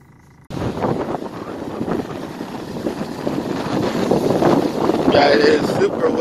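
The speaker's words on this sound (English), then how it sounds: "It is super windy at the beach here." Strong wind roars and buffets the microphone on Miami Beach after a brief quiet start, with gusts rising and a voice briefly heard near the end.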